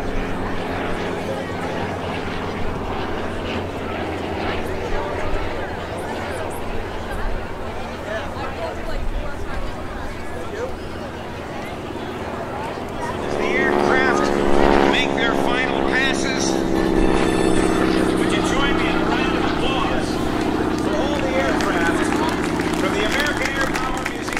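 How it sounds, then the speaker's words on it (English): A Curtiss Helldiver warbird flying at the 2012 Jones Beach Airshow: a steady engine drone that swells louder and rougher midway and stays strong, with a voice talking over it. "And here's that vestige, Curtiss Helldiver."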